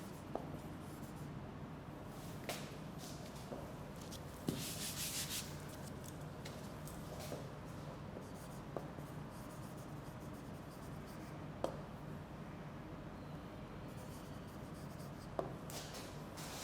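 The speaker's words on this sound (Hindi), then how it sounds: "इधर मैं लिख देता हूँ" Marker writing on a board during a lecture, a steady close scratching and rubbing of strokes that runs throughout with a few sharper taps where strokes start, no talking over it.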